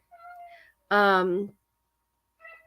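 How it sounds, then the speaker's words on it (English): A cat meows once, loud and close, in a single drawn-out call with softer faint vocal sounds just before and after. "That's a cat."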